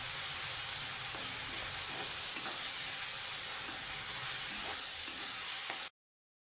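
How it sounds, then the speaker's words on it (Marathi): Ground onion paste sizzles and fries steadily in hot oil with bay leaf, cloves, cardamom and cumin, a constant close hiss with occasional stirring scrapes, cutting off abruptly near the end. "कांदा बारीक वाटून घेतलेला आहे तो घालूया परतून घ्यायचा आहे चांगला"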